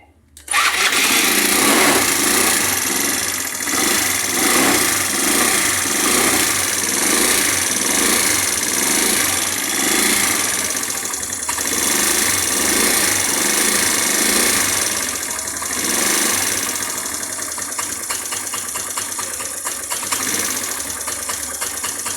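A motorcycle engine fitted with a triple electrode spark plug, still cold, runs loud and close at a rough, uneven idle with a steady rapid putter throughout, stalling and restarting earlier.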